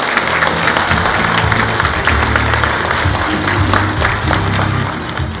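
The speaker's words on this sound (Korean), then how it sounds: "큰 박수 한번 부탁드립니다" Applause at a Rotary International district governor inauguration ceremony held in a convention center, loud sustained clapping from a large crowd with musical accompaniment running underneath.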